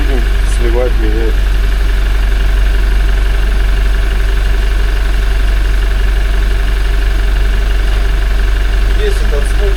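Idling 1GD-FTV diesel engine with a faint timing chain knock at about 40,920 km, warming up before an oil change; a steady loud engine drone with light rattling underneath and speech over it.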